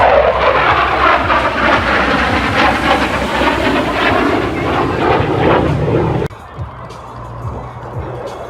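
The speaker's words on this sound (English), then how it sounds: "In from the left, the F-16 and the 4-point roll." An F-16 fighter jet roars overhead during a 4-point roll at an air show in Redlands, California. Its broad, loud engine rumble cuts off sharply, and quieter ambient crowd noise follows.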